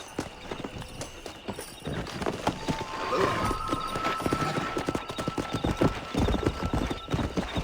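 Horse hooves clip-clop at a gallop in Red Dead Redemption, a dense rapid rhythm over open-country ambience, with a brief whinny and a faint voice partway through.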